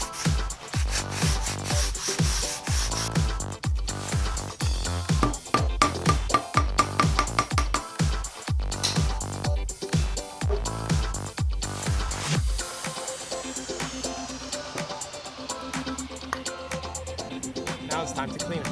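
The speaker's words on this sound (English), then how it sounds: "just sanding down and making the curb rash a little smoother" Rough abrasive sanding of curb rash on a car wheel, a rapid rhythmic rasping back and forth, close and steady for most of the stretch before easing into quieter scraping near the end.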